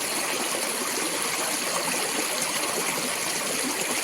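A fast-flowing mountain stream rushes through a forest ravine, a loud, steady, unbroken roar of water close by with no voices.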